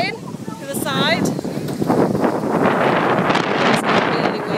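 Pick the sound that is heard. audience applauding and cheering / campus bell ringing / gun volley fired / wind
wind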